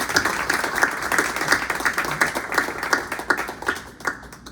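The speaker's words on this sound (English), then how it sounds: "could we give Tim more applause?" Applause from the audience at a poetry reading and conversation event, steady clapping from a modest crowd that carries on at an even level and fades slightly toward the end.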